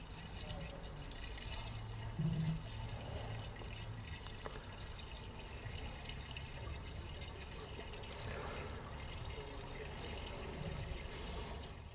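Liquid poured into a car engine, WD-40 filling the oil fill, 3.5 to 4 liters, a steady low trickling pour that runs continuously at moderate level against faint background noise.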